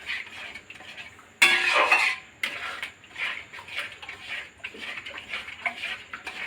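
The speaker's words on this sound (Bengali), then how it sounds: "এটাকে একটুখানি 2 মিনিট নাড়িয়ে নিই" Spiced water used to rinse the masala bowl is stirred in a pot for Bengali aloo dum, with a loud clatter of a utensil against the metal around 1.5 s, then steady scraping and light ticking strokes.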